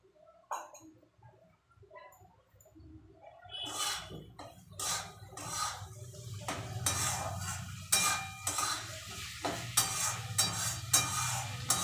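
Ground spice paste frying in a pot after onions and potatoes, a quiet start building to sizzling with repeated metal spoon scrapes and clinks as it is stirred, fairly close.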